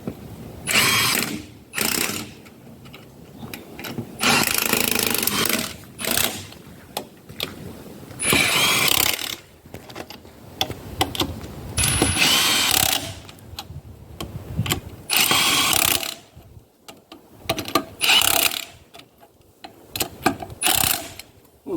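A ratcheting torque tool tightens the wheel nuts on a mud truck, loud rattling bursts repeating in an irregular rhythm with short pauses between each nut, close by and with no talk.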